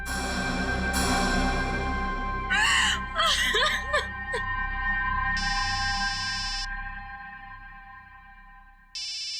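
An electronic phone ringtone buzzes in two short bursts, after a sustained tone and a few brief whimpering vocal sounds.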